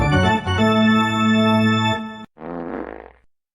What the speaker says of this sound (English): I love how that fart sound comes as the guy's running the corner.